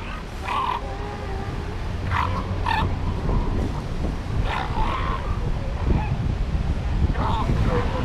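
Elephant seals on an ocean beach grunt, snort and cough in short honking bursts over constant surf and wind rumble, several calls close by while people talk in the background.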